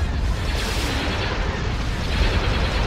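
Starship weapons fire in a Star Wars strategy game, with Imperial Star Destroyers attacking a target: a dense, continuous barrage of booming blasts and rumbling impacts, loud and sustained throughout with no pauses.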